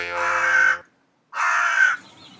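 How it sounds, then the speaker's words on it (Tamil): A crow gives two harsh, drawn-out caws separated by a short pause, close and clear with nothing else around them. "காக்கா என்னடி சொல்லுது?"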